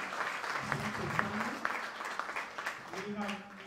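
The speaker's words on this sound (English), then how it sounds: "Let's clap for them." A room audience applauds for county CECs at an education gathering, a short burst of scattered, fairly distant clapping mixed with voices.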